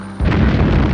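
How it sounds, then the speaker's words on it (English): A bomb goes off in a 1971 James Bond film, Diamonds Are Forever: a sudden loud, deep boom breaks in after a brief quieter moment and rumbles on to the end. "It's a bomb or something like that."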